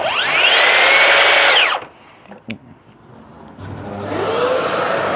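A Makita DSP601 cordless track saw cutting wood whines loudly and steadily for nearly two seconds, cuts off abruptly, then a quieter motor hum builds back up after a short pause.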